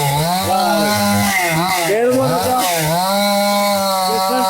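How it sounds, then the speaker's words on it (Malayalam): A chainsaw cuts into a tree up close, its engine snarling loudly and steadily with the pitch rising and dipping as it bites into the wood, while a voice is faintly heard underneath. "അപ്പൊ മൂപ്പര് മരം മുറി ഞാൻ അടുത്ത് കാണിച്ചു തരാം"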